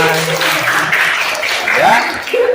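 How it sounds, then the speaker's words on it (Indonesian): Students in a classroom applaud after a roleplay presentation, brisk clapping under voices talking and calling out. "Tepuk tangan."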